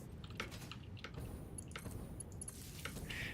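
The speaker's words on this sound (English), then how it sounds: "And then obviously chewing sounds." Crunchy, close chewing of crackers, with rapid crisp bites and mastication repeating steadily over a low background hum, quiet but distinct.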